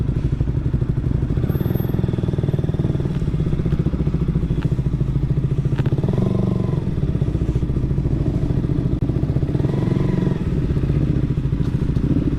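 A motorcycle engine runs steadily throughout as it rides, with occasional clatters and thumps over the continuous rumble.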